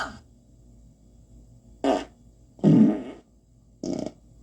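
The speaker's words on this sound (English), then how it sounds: "Terrence, I think I have to fart." Three cartoonish fart effects blare from a South Park pinball machine, spaced roughly a second apart, each a short loud burst, the middle one longest and deepest, over a low steady machine hum.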